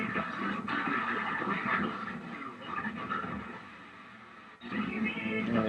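Dense crackling static with shifting tones and garbled fragments sweeping past, like a radio dial turned between stations, steady and fairly loud with a brief dropout near the end.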